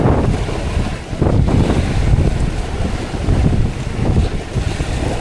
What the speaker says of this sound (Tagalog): Laki ng alon, no?